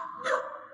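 A single short dog bark, close and fairly clear, with no talk around it.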